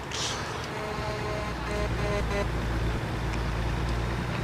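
A truck horn in American Truck Simulator toots a few short beeps over a steady, loud drone of road traffic and engine rumble.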